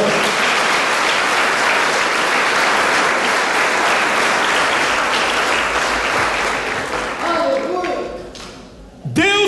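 A church congregation bursts into loud, sustained applause, a thick continuous roar of clapping that thins out near the end as a few scattered claps and a voice emerge.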